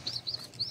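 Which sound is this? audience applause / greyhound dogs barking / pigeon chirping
pigeon chirping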